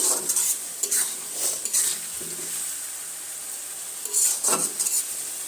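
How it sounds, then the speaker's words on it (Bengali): Chicken sizzles steadily in hot oil while a utensil scrapes and stirs in bursts against a pan, with occasional metallic clinks, close up. "মুরগিটাই অনেকটাই ভাজা ভাজা হয়ে গেছে"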